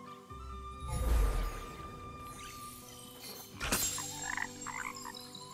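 Frogs croaking in the video game Kena: Bridge of Spirits, faint and scattered amid game ambience, with a low whooshing swell early on and a sharp impact partway through.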